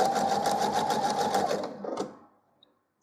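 A sewing machine runs steadily at close range, stitching a quarter-inch seam on a four-patch coaster, then slows and stops after about two seconds.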